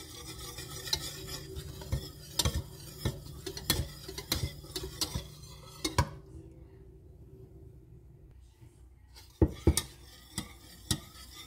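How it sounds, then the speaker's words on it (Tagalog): Ube is stirred into cake batter in a bowl, with a spoon clinking and tapping the sides in a steady rhythm, pausing briefly midway before resuming, close and clear with no talk. "Haluan lang natin ng ube."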